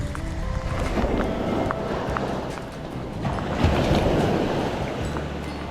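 Ocean surf rolls steadily onto a Sanibel Island beach, a continuous close wash of breaking waves with wind buffeting the microphone, swelling louder near the end.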